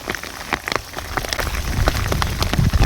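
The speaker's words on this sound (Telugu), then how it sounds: "వర్షం అయితే ఘోరంగా పడుతుంది" Heavy rain pelting down during a fishing outing with prawn bait, a steady rushing patter with sharper individual drops splashing close by, growing louder toward the end, no talk.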